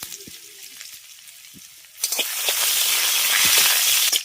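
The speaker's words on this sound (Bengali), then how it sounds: "তেল গরম হয়ে গেছে এবার তেলের মধ্যে দুটো শুকনো লঙ্কাকে সেটা নিয়ে দিয়ে দিচ্ছি সেই সাথে দেবো গোটা জিরে দিচ্ছি" Dried chillies, whole cumin and crushed ginger hit hot oil. After a few quiet clicks a loud, bright sizzle bursts in and keeps hissing close up.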